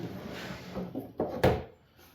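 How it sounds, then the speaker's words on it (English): A wooden drawer is pulled out of a kids' desk that has been tipped over, giving a muffled sliding scrape followed by a couple of louder knocks and thuds close by, without speech. "Pull that drawer out of there."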